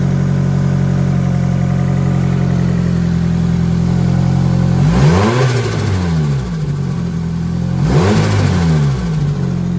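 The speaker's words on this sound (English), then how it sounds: "Oh, now there's compressor surge" A Nissan SR20 engine with a new turbo idles loudly up close, then is revved twice, each rise and fall ending in a fluttering turbo compressor surge chatter.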